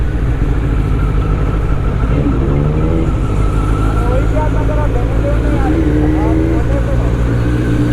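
A Kawasaki Z900 superbike fitted with a Scorpion aftermarket exhaust runs loud and close, a steady deep engine drone with rising rev tones mid-way, and voices faintly beneath it.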